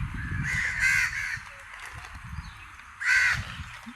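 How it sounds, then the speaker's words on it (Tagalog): Crows caw close by in two bursts, the first a run of three harsh calls and the second a pair a couple of seconds later, over low background rumble. "ang daming uwak dito"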